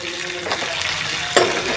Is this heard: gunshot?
no